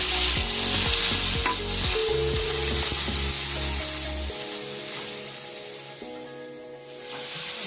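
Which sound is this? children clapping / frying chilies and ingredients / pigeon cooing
frying chilies and ingredients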